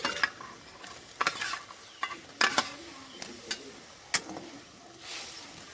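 Fried pointed gourd pieces tipped into a simmering curry and stirred, with a light bubbling sizzle broken by several distinct clinks and scrapes of a ladle against the pot.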